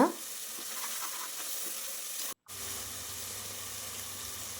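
Ginger garlic paste sautés in oil with a steady, even sizzle that cuts out for a moment midway and then resumes.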